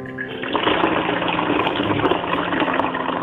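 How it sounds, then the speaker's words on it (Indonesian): Homemade red wine, fermented 25 days, being poured and strained to remove grape pulp: a steady, close splashing stream of liquid runs throughout without a break. "Nah ini saya saring begini aja ya, untuk menapis ampasnya ini."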